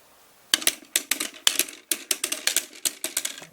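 Small plastic target panels on a cheap electronic scoring target for foam dart guns fall over one after another in a rapid run of sharp, close clicks and clatters, irregular and dense for about three seconds.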